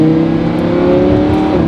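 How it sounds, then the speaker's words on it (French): A Lamborghini Huracan LP610 V10 engine holds a steady, clear, loud, high-pitched rev, a smooth continuous wail close by. "Ce moteur produit un son cristallin"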